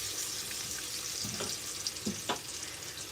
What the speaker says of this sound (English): you see how I just seared at a low medium just so it can get all that sugar out and cook low and slow